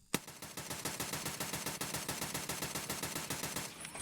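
Full-auto fire from a SPEAR 6.8 rifle in a video game: a rapid, evenly spaced burst of loud shots lasting about four seconds, up close with no talking.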